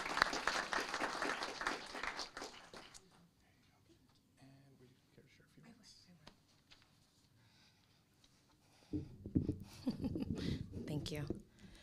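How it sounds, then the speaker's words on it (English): City council award audience clapping for a Classified Employee of the Year, a dense round of applause that fades into a quiet room with light rustling, then a voice speaks at the end. "A big round of applause, please."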